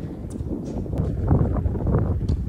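Wind blows across an outdoor tennis court in loud, uneven gusts, buffeting and rumbling against the microphone, with faint scattered knocks beneath it.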